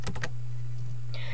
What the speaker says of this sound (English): hold down the Control key on your keyboard, then press down on the number 5 on your keyboard